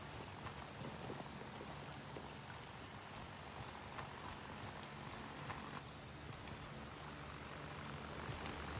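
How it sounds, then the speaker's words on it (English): Military helicopter in the video game Gray Zone Warfare, a steady dense rotor and engine roar that fills the whole stretch, constant and moderately loud with no talking. "Chopper sounds like it's going down to the south."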